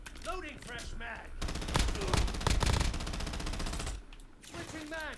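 Rapid automatic gunfire from a shooter video game, dense bursts of shots building to a loud sustained volley in the middle, with a voice talking before and after the firing.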